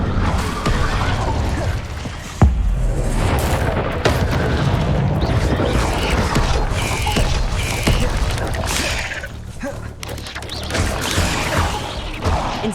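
Fire spell effects in Hogwarts Legacy: a sustained roaring, crackling blaze with booming bursts, including one sharp impact early on, continuing loudly throughout with no talk.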